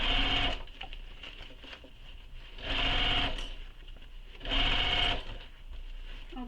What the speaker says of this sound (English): I just sewed all the way around with no bobbin